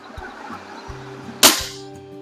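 A Hatsan 135 .30 caliber break-barrel air rifle fires a single sharp, loud report that decays quickly, following a few soft handling knocks, with a low steady hum in the background.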